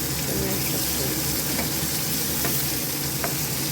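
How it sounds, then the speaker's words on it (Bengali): Pieces of katla fish sizzle in hot oil in a home kitchen, a steady loud crackle with occasional sharper spits and pops, continuous and close with no voices. "মাছ ভাজা মোটামুটি কমপ্লিট।"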